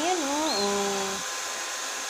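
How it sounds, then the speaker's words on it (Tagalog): A hair dryer blows a steady, close whooshing airflow over pet birds during bathing, while a drawn-out vocal tone rises and falls above it before fading. "Para mag-blower kayo,"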